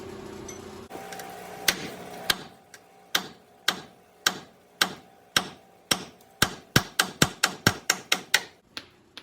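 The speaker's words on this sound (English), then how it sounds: "give it a couple taps and pound it out the rest of the way with a hammer" A hammer strikes a 2008 Dodge Ram steering knuckle in sharp, ringing metal taps, starting slow and speeding into a rapid run of blows, close by.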